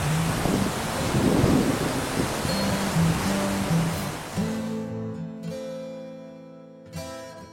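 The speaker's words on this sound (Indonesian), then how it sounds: "di sini debit airnya itu kencang banget" Curug Ciparai, a twin waterfall in Tasikmalaya with a very strong flow, roars as a dense, steady wash of falling water, loud and close before easing off near the end as tonal sounds emerge.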